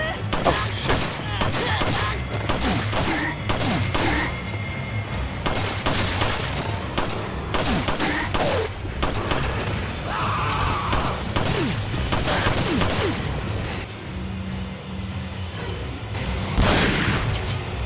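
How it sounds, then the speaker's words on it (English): Shotgun blasts in the video game Resident Evil 4 Separate Ways, repeated loud booms amid constant dense game noise and shouting, with a dense, busy mix throughout. "This shotgun is kind of weak"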